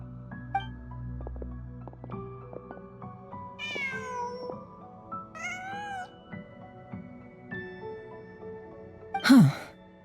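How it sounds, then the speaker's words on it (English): In Genshin Impact, a cat gives two short meows a couple of seconds apart over soft ambient game music, followed by a louder vocal burst near the end. "Just a cat."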